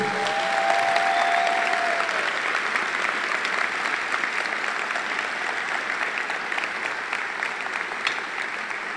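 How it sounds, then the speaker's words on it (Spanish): A church congregation applauds louder during a Christian sermon, a broad sustained roar of clapping that holds steady for several seconds, with a brief high tone near the start. "Vamos, un aplauso mucho más fuerte."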